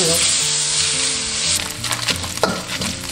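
Thin slices of fatty pork hit a dry wok with no oil, giving a loud close hiss that turns into crackling sizzle and scraping stir noises, no talking.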